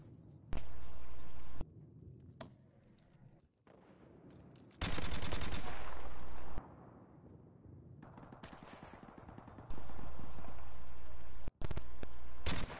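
Gunfire in an online team shooter video game, heard as loud bursts of rapid automatic fire broken up by quieter gaps with faint background game sounds and no talking.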